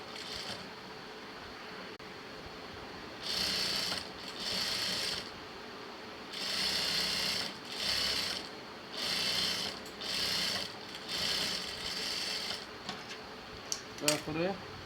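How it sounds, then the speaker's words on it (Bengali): A sewing machine runs in repeated short bursts, stitching a seam on a salwar that was overlocked first. The bursts are moderately loud and come with brief pauses between them. "তারপরে ব্যাপারটা সেলাই দিবেন"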